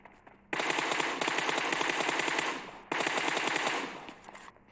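Automatic gunfire in the mobile shooter PUBG Mobile, heard as two sustained rapid-fire bursts, each about two seconds long, loud and close with no talking.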